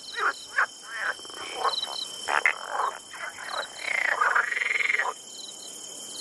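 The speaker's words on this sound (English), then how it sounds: "those were kind of the coolest frog sounds." Frog sounds, a string of croaks and rattling calls, some short and spaced, one longer trilling stretch, loud and near over a constant high insect-like buzz, with no voices.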